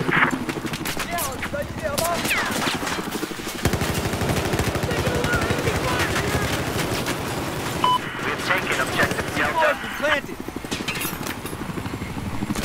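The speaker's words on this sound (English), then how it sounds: "I have eyes on a hostile machine gunner east of your pond." Machine-gun fire from a hostile gunner in a Battlefield video game rattles in sustained rapid bursts, loud and continuous, mixed with other battlefield gunfire and a helicopter drone, while players talk over it.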